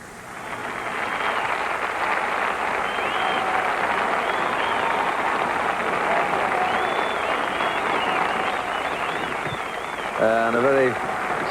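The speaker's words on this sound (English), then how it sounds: "a very satisfied Jack Nicklaus getting a wonderful round of applause, a standing ovation" A golf gallery at the 1987 US Open at the Olympic Club in San Francisco gives Jack Nicklaus a standing ovation, sustained loud applause and cheering from a large crowd, with a commentator's voice over it near the end.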